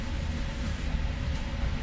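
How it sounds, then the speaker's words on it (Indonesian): Inside the Tegal Bahari passenger train as it departs Cikarang station, a continuous low rumble and broadband rolling noise fill the carriage, steady and fairly loud with no voices. "kereta api Tegal Baharinya"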